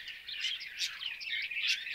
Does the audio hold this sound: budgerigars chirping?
yes